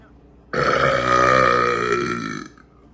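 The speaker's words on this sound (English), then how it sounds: "Oh, man. Fucking burping 2 days in a row." A single loud, drawn-out burp of about two seconds from a man, sounding close and alone against a quiet background.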